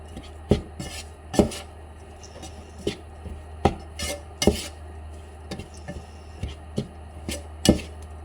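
Ground bamboo shoot with salt being stirred in a pan: a spoon scrapes and knocks against the metal in irregular sharp clicks every half second or so over a steady low hum.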